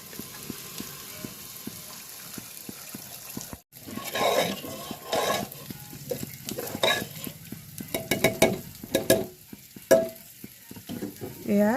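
Water used to boil jackfruit is poured into a sizzling jackfruit curry in a pan and stirred, with a rush of liquid, a steady frying hiss and the clink of a scraping spoon.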